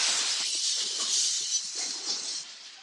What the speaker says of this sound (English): That's the sound of a big hit on you and your car or truck.